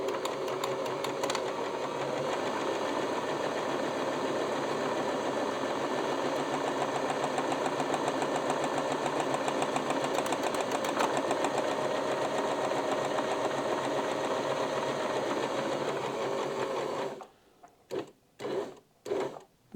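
A sewing machine stitches a buttonhole with a short stitch length, running as a steady, close mechanical whir with a rapid rhythmic pulse for about seventeen seconds, then stopping into a few brief separate bursts at the end.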